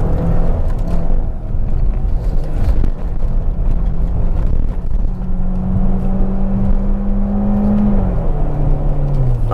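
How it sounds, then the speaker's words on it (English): Peugeot RCZ automatic, a 2010 car, driving up a misty, wet hillclimb, its engine note holding steady then stepping down twice as the gearbox shifts up, loud and close from inside the cabin, no talk. "So we end up with two gear shifts."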